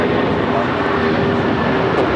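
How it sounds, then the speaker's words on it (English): A United Airlines Boeing 757-300 rolls for takeoff at LAX, its jet engines giving a loud, steady roar with a faint whine, while a voice talks over it. "We have a United 757-300 now rolling"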